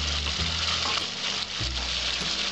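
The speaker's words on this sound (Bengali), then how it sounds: "এর মধ্যে আমি আলুগুলো ছেড়ে দিচ্ছি।" Potatoes dropped into hot oil for a Bengali-style boal fish curry produce a loud, dense, continuous sizzle, close up and steady with no voices.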